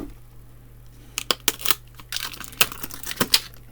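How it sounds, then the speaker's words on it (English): Blade slicing and tearing open a plastic-wrapped six-pack of AK Interactive model paints, a string of sharp crinkles, snaps and rips over a low steady hum, close and fairly quiet. "Let's cut this open."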